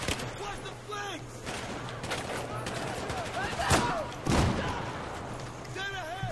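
An AUG assault rifle fires in Battlefield 4 as rapid bursts crack through a busy battle with other gunfire and a couple of heavier booms, while a voice talks over it.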